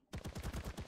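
A turret fires in the survival game ARK as a short rapid burst of about seven evenly spaced shots, loud and close, with no talking.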